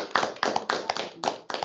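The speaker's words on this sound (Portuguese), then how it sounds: "eu acho que merece uma salva de palmas" A small audience at a Portuguese-language literature talk claps in a few short, uneven bursts, the individual hand claps sounding close and thin rather than as a full ovation.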